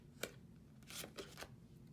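Tarot cards being shuffled, heard as a few quiet, separate papery riffles and snaps in a hushed room, with brief pauses between the bursts.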